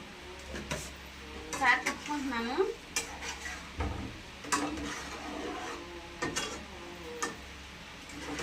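Chicken fry with chilli powder and spices is stirred in a pan, a ladle scraping and tapping against metal in irregular strokes over a soft sizzle, with a voice speaking intermittently over it.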